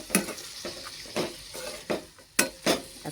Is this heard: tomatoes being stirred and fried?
yes